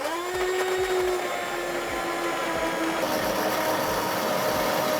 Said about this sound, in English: now I'm going to use my immersion blender to blend this pretty smooth